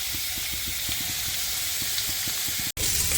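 Sweet pumpkin pieces being stirred as they fry in a pan, a steady close sizzle with soft rhythmic scraping knocks from the stirring, briefly cut off near the end.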